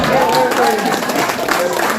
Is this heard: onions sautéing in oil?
no